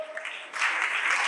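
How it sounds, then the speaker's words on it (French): A short burst of applause from an audience of school students in Kinshasa swells and grows louder halfway through, steady clapping filling the moment. "Sous vos applaudissements"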